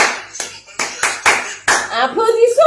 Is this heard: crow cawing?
no